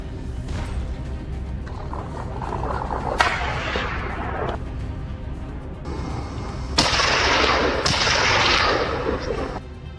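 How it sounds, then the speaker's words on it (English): Rifle shots fired at wild boars on a snowy slope: several sharp, loud reports at irregular intervals, each trailing into a rolling echo over a steady outdoor background. "A gunshot rang out, and he immediately chased after the fleeing animals"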